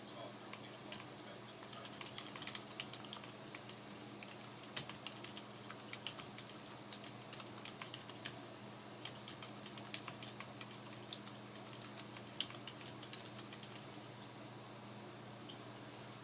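Light keyboard typing, scattered quick taps and short clusters of keystrokes, faint against a low steady hum of a fan or engine in a quiet room.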